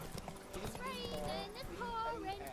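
A horse trotting in The Witcher 3, a soft steady clip-clop of hooves running under talking voices and chirping sounds, kept quiet in the mix.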